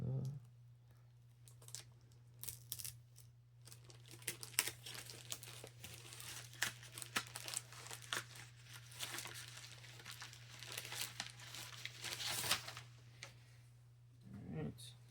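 Plastic shrink wrap crinkles and tears as it is peeled off a Japanese vinyl record, close-up and intermittent bursts of rustling over a low steady hum, no voices.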